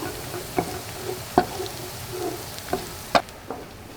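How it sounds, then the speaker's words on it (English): Garlic, onion and hot pepper flakes fry in a pan with a soft continuous sizzle, punctuated by a few sharp knocks and stirring clacks at irregular intervals. "I don't want to burn my garlic and my onion"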